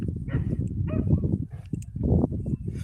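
Dogs bark and whimper in short bursts close by during an outdoor walk, the yips and bow-wows repeating irregularly over a few seconds.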